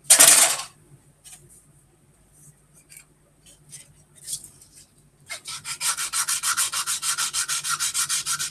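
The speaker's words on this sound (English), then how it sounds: "Get this wing sanded down real well." Sandpaper rubs over a wing in a workshop, first as sparse short scrapes after a sharp knock, then as a steady, rapid back-and-forth rasping that grows louder and closer.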